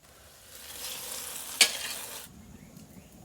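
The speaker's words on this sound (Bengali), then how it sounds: "পেঁয়াজ দিয়ে দিলাম, কাঁচামরিচ দিয়ে দিলাম, পেঁয়াজ ভাজা হয়ে গেছে" Onions and green chillies fry in a pan in a village kitchen, the start of cooking taro with hilsa fish head. A steady hiss carries on alone, with one sharp clatter midway, then fades quieter.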